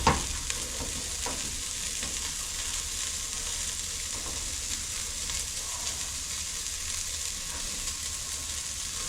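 Beans searing in a pan over a fire, a loud, continuous close-up sizzle and crackle with faint stirring, steady throughout after a brief louder clank at the start.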